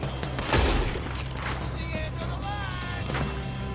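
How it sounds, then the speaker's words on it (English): Gunfire from a shootout in the video game Red Dead Redemption 2, a dense burst of overlapping shots early on followed by continuous game ambience, with voices talking throughout. "Looks like we're shooting our way out of here"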